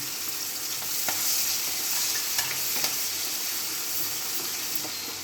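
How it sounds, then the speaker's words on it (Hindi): Chopped onion and green chili fry in hot oil with a steady, dense sizzle throughout, broken by a few light clicks of stirring, with no talking. "एक प्याज बारीक काट लिया है, एक हरी मिर्च। अब इसको इसी तेल में डाल देंगे।"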